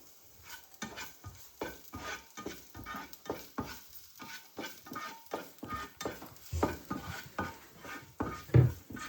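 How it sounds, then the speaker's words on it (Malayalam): Noodle ingredients are stir-fried in a pan over a high flame, with quick rhythmic scrapes and knocks of a spatula over a light sizzle, close up and without voices. "കരിയാതെ സൂക്ഷിക്കാൻ വേണ്ടി നന്നായി ഇളക്കണം"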